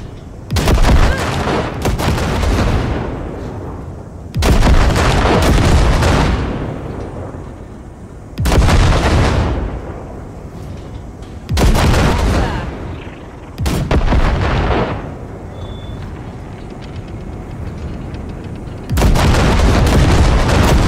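Heavy gunfire blasts drifting wrecks in the video game Cyberpunk 2077, with a series of loud booming volleys every few seconds, each fading into a rumbling tail.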